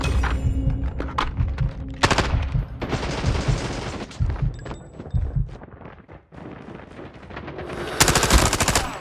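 Rapid bursts of automatic gunfire from a deployed sentry gun in the Call of Duty Mobile video game, with loud rattling volleys, brief pauses and heavy thuds mixed between the firing.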